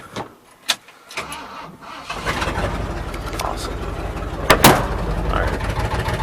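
A Ford F350 pickup abandoned for 28 years cranks a few times and then starts, settling into a loud, rough, steady idle close by, with a brief spoken exclamation partway through.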